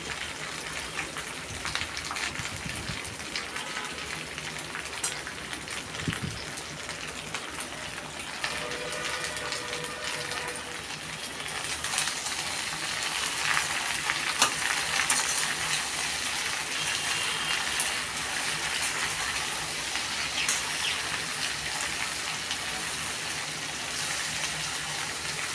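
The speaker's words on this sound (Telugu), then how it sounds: "బాగా వేగించుకోవాలండి క్యాప్సికము" Capsicum sizzles in a pan for a curry with chana dal, a continuous rain-like hiss of frying held close and fairly even throughout, with no speech.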